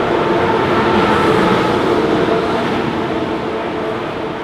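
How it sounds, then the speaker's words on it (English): A German train rolls along steadily, heard from inside the carriage as a continuous loud rumble with a wheel-on-rail roar, unbroken and close. "Now we're in the train, moving along."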